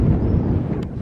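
Steady wind buffets the microphone beside a pool in Greece, a low rumbling roar throughout with no voices.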